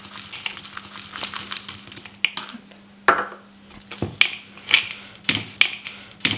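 Vegan no-bake raw cookie dough with chocolate chips being mixed in a bowl, giving a run of irregular scraping clinks and soft knocks of a utensil against the bowl, close and fairly quiet with no talking.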